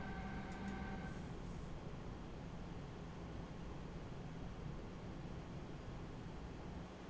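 An ICE-3 train in Train Simulator 2018 runs between Mannheim and Karlsruhe, giving a steady, even rumble of wheels and rail noise that holds at the same quiet level throughout, with no talk.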